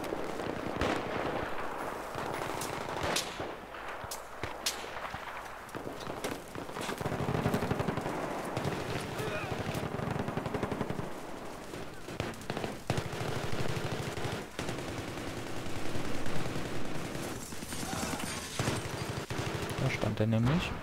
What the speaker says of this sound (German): Und von irgendwo kriegen wir wieder Schüsse ab.